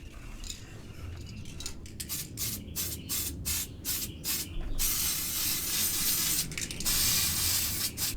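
Black spray paint hissing from an aerosol can onto a Traxxas Revo 3.3 RC car body, close and loud, first in short rhythmic bursts and then in longer continuous sprays.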